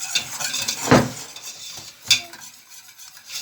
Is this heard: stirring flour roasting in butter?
yes